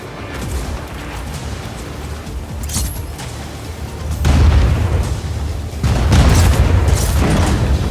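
Heavy booms and rumbling blasts from a cannon exploding in the Just Cause 4 video game, loud and close, with two big bursts layered over ongoing game ambience.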